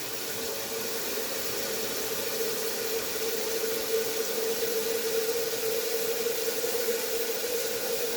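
An EcoShower pours water steadily into a gallon jug, giving a continuous close rushing hiss with a faint pump-like tone underneath that holds unchanged for several seconds, with no talking.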